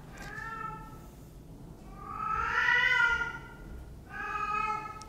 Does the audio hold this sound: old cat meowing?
yes